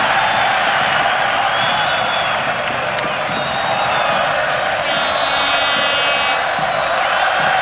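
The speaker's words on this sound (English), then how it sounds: "Is that Spanish crowd went, ooh-ah" A Spanish crowd in an indoor arena at the 1996 Futsal World Cup final between Spain and Brazil, letting out a sustained, roof-echoing groan of disappointment mixed with scattered clapping and cheers, dense and loud throughout.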